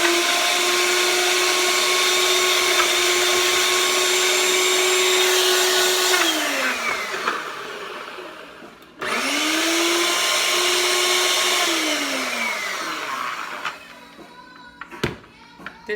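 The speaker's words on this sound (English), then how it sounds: "I want to get these ground up really good. So it's going to be a bit of a shaking and then mixing process" A blender or food processor whirs loudly while grinding walnuts, a steady motor drone running about six seconds, winding down, then starting again for a second long run before stopping with a few clunks as the container is shaken.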